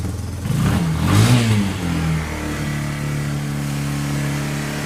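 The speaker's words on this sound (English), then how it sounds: "Revs pretty high" A cold Yamaha Bear Tracker 250 ATV engine starts and revs up sharply, the pitch rising and falling before settling into a steady, fairly high idle, loud and close with no talking.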